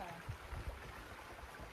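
A creek flows on a family farm, making a low, steady watery murmur with a few soft splashy bumps near the start. People's voices are faintly mixed in.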